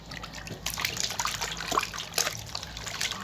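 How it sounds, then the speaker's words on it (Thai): Sliced papaya rinsed under running water, a steady close trickle with small splashes and dribbles as the fruit is moved under the stream. "เอาลงล่างน้ำเลยจ้า"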